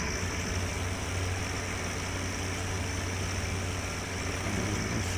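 Tractor engine running in Farming Simulator 17, a steady, low, unbroken drone at even loudness throughout with no voices.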